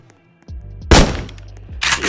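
Gunfire from a gun in a Roblox video game: two loud, sharp broadband bursts, the second after a brief gap, each followed by a short low rumble, with no talking.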